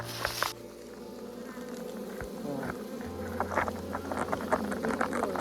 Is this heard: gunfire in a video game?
no